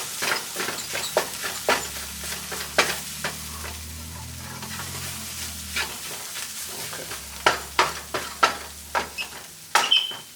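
Tomatoes for a vegan sofrito sizzle and fry steadily in a pan, with repeated sharp scrapes and taps of a utensil stirring throughout, the knocks growing louder and more frequent toward the end.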